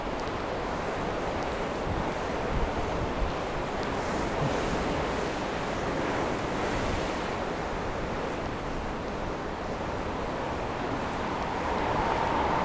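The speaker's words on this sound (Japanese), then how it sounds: "この辺り波がかなり激しいです。" Rough ocean surf crashes continuously against a Japanese coastal shore, a loud, steady roar mixed with wind buffeting the microphone, heard outdoors during a bicycle trip.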